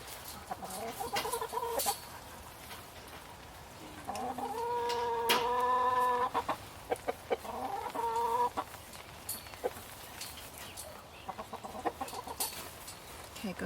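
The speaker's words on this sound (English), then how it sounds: "Chickens." Chickens clucking near a garden greenhouse, with repeated close clucks and short calls in bursts over background hiss, some faint voices around them.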